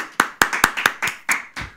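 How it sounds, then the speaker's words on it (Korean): A church congregation claps in praise during a worship service: about seven distinct, sharp claps in a brisk, slightly uneven rhythm, close and fairly loud, with no talking over them. "하나님께 영광의 박수 드리겠습니다."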